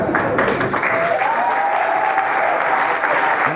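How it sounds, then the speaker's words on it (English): An audience at the Spiel des Jahres 2019 board game award ceremony claps steadily and loudly throughout, a dense wash of applause with no pauses. "everyone's clapping"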